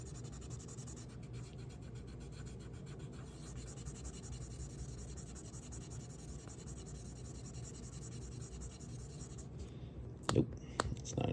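Eraser rubbing marker ink off a Pokemon card, a faint continuous scratchy scrubbing close up, with a couple of louder scuffs near the end.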